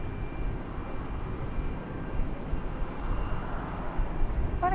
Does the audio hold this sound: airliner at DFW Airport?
yes